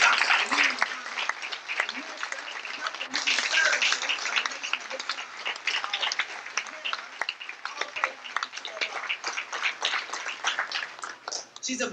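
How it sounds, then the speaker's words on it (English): A crowd at a mosque gathering in Los Angeles gives sustained, dense applause for nearly twelve seconds. The clapping stays loud and fairly close, with a few voices mixed in. "we should give a great round of applause to that and the work of Dr."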